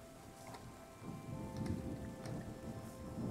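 Thunderstorm rain in the Terra Nil video game, a steady hiss of rainfall with a low rumble building beneath it, moderately loud and continuous with no voices.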